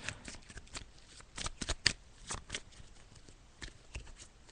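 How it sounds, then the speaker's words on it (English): Tarot cards are shuffled close up in quick riffling bursts, soft papery flutters and taps spaced irregularly, fairly quiet with no talking. "I'm just gathering the cards, and I'm just shuffling them now, as you can hear."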